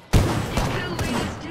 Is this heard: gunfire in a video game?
yes